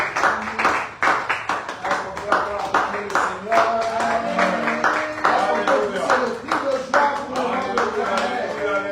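A church congregation claps and applauds, dense overlapping handclaps running throughout, with voices talking and calling out beneath the applause.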